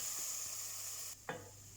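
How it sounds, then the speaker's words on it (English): Tomatoes softening in a pan for ugali and sukuma with beans, a steady close sizzle running throughout with a brief scrape of stirring near the end, no voices. "we'll cook this for about 5 minutes, and just until the tomatoes have softened, and we'll keep on mixing it"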